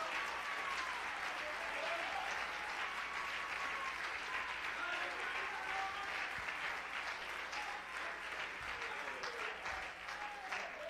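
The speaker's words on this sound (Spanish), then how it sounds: "Dale, dale un aplauso a Cristo, que Él se lo merece." A church congregation applauds steadily throughout, a loud dense wash of clapping with faint voices and shouts threaded through the crowd noise.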